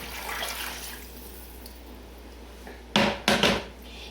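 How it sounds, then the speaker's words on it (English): Water poured into a pot of asopao de gandules, a Puerto Rican soup, during cooking: two short bursts of pouring near the end, close and fairly loud after a quieter stretch of low kitchen background. "Now I'm going to add 5 cups of water."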